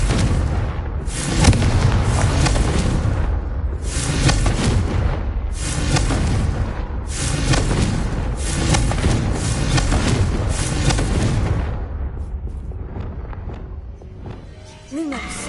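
Repeated booming Confringo spell explosions in Hogwarts Legacy inside a haunted Hogsmeade shop, about six loud blasts in a steady rhythm, then quieter at the end.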